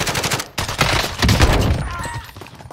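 Rapid bursts of video game gunfire in Warzone, several sharp volleys close together over a couple of seconds, loud and close.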